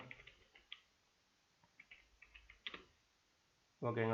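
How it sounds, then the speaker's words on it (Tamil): Faint, irregular clicks of a computer keyboard as someone types in Microsoft Word, scattered taps in small bursts, then a voice starts speaking at the end. "தமிழ்நாடுன்னு சொல்லி டைப் பண்ணுறேன்"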